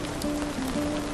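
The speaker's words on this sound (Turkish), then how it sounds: "Her şeyin sorumlusu beni uyandıran bu yağmur." Rain falls in a steady, close hiss on a surface for just over a second, with a faint tonal hum running under it.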